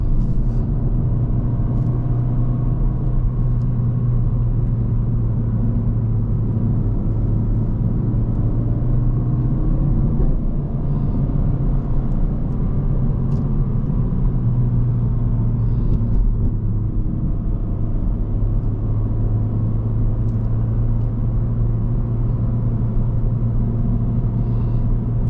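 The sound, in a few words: Honda Civic Hatchback engine in second gear towing uphill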